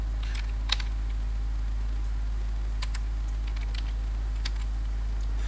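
Code is typed on a computer keyboard in a quiet room with a low electrical hum, giving scattered light key clicks in short bursts and one sharper tap early on.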